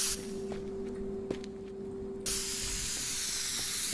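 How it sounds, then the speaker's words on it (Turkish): A spray can hisses in a Minecraft Backrooms office room, a loud continuous burst that starts partway through over a steady electrical hum and faint footsteps. "Sprey diyoruz abi."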